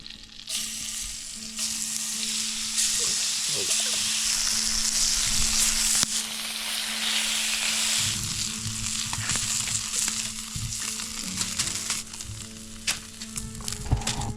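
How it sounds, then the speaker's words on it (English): Parmesan-coated zucchini frying in a hot cast iron pan, a steady loud sizzle and crackle with occasional scrapes and stirring clicks, close up and continuous with no voices. "We're going on with our cast iron pan. We're gonna let it get hot, and it's important to use cast iron for this."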